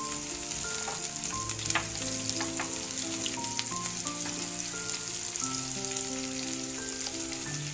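Onions with green and red chillies fry in a pan, giving a continuous hissing sizzle with occasional crackles over a low steady hum, and nobody speaks.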